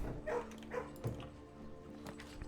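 Puppies give a few quiet yips and whimpering barks in short bursts, faint and set against a low background murmur from a game stream.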